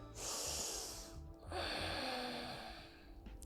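A deep, hissing inhale during a seated office yoga stretch, two long breaths close to the mic with a short pause between, no talk over them.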